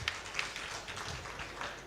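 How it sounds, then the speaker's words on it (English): Applause from a magic show audience for a volunteer named Steve, a steady, dense wash of clapping through the whole moment with no voices over it. "Give him a round of applause one more time."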